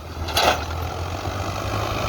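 An Al-Ghazi tractor engine runs steadily while pulling an 18-disc harrow through wet, heavy field soil, giving a constant low idling drone with a brief sharp knock early on.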